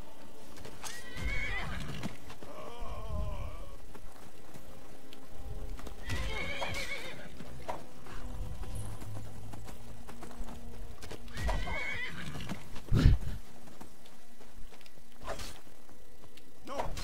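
A horse in the video game Skyrim clip-clops and whinnies in several short bursts, hoofbeats and neighs recurring every few seconds against a quiet ambient background.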